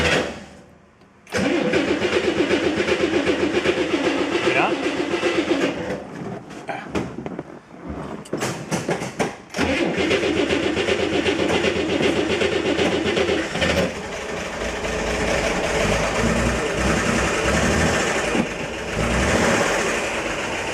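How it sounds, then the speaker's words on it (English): A 1965 Corvair Monza 110 engine starts after a fuel pump replacement and keeps running, a loud, steady idle that dips and sputters briefly before settling into a continuous rumble. "I've got the car running, I believe."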